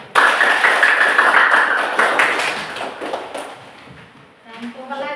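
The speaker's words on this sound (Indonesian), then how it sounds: "Kita tepuk tangan dulu." Schoolchildren applaud together in a classroom, a loud sustained burst of rapid clapping that fades out over a few seconds before a voice begins speaking.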